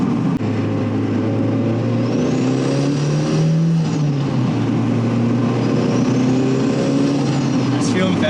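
Inside a turbocharged NB Miata, the engine drones under acceleration with a rising whistle of turbo spool layered over it, loud and continuous, while occupants talk over the noise.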